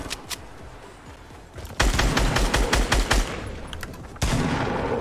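Gunfire in the Fortnite battle royale video game, a few single shots, then loud rapid bursts of automatic fire and a final burst toward the end, all close and dominant.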